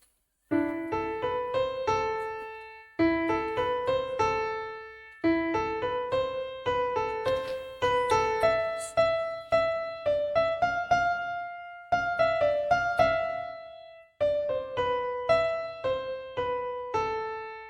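Keyboard plays the Bella Ciao verse melody alone, a clear tune of repeated phrases with short pauses between them, each phrase starting on a firm note and stepping along at a steady moderate tempo.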